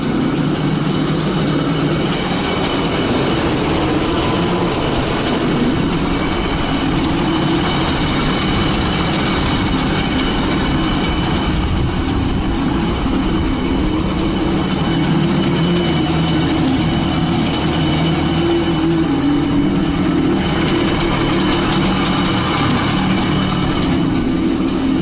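A Kirovets K-525 tractor engine runs steadily, a loud, continuous low diesel drone with a heavy rumble that holds unchanged throughout, with no voices over it.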